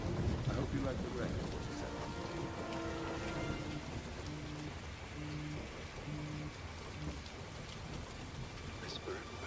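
Steady rain falls with low rumbling thunder in a Hitman game scene, a constant wash of drops under background music tones, while voices speak faintly over it.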